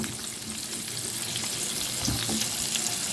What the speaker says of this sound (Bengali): এখন আমি এই আলুটাকে বেশ একটু লাল লাল করে ভেজে নেব